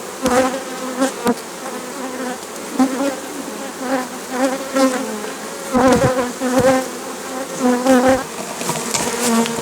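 Honey bees buzz steadily around a frame of brood and honey lifted from a frameless log hive, a dense droning swarm with pulsing swells close by and no talking.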